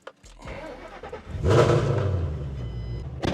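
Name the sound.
Ford Mustang engine warm start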